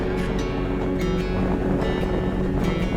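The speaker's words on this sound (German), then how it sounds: "Es weht ein krass eisiger Wind." Icy wind roars steadily and buffets without pause on a motorcycle trip in Chile/Argentina, a constant rushing noise with a low hum underneath.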